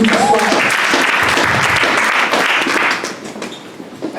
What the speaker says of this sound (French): On acclame pour l'Éternel et pour nous ce soir